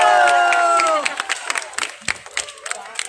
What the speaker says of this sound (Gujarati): બધાની તાળી કન્ટિન્યુ રહેવી જોઈએ